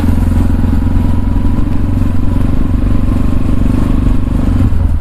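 A new Tekken 250 motorcycle being ridden through a forest while still being run in, its engine a loud, constant close rumble with rattling clatter throughout.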